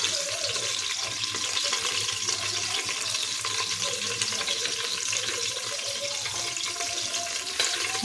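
Chopped onion and curry leaves frying in hot oil for dal khichdi, a steady loud sizzle and hiss lasting the whole stretch, close up with no talk.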